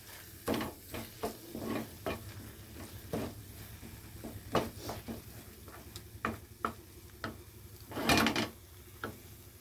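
Chicken masala and soybeans stirred in a hot pan: a gentle, faint sizzle sits under repeated scraping and knocking strokes of a spoon against the pan, arriving in irregular bursts.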